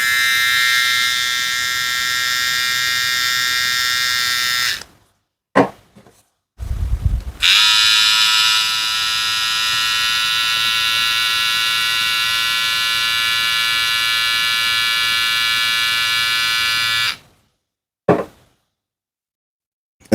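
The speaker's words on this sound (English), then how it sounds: "So now let's make an RPM test." A BRDCLIP BRD 137 hair trimmer runs during an RPM test with a loud, close, high-pitched electric buzz and hum, switched off and on several times, with long steady running stretches and short silent gaps.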